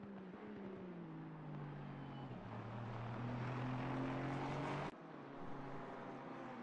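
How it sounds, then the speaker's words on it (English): Ford Mustang race car in a sim racing game, the engine droning steadily with pitch rising and falling through the gears, then a sudden drop partway through before the drone carries on. "That Mustang does sound good"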